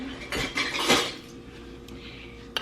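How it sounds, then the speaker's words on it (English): Glass canning jar of green beans being fitted with a metal lid and screw ring, a few sharp clinks and scrapes of metal on glass up close, then a quieter pause and a final small tap. "screw on a ring, just fingertip tight, and this will be ready for the canner"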